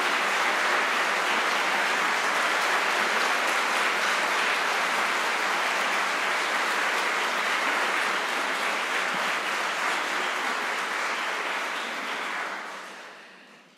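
Loud, dense applause from a large crowd at a choir's tenth-anniversary concert, sustained and even throughout before fading out at the end.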